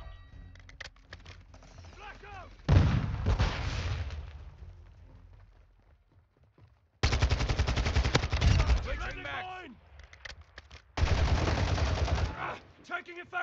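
Automatic rifle fire from a Kastov-74U in Call of Duty: Modern Warfare II comes in three loud, rapid bursts separated by quieter gaps, with game voice callouts and a player talking between them.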